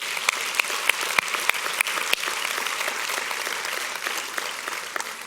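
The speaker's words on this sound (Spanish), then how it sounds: "Un fuerte aplauso al Señor." Church congregation applauding during a service, a sustained crowd of clapping with several sharp, distinct claps standing out near the start before it settles into an even wash.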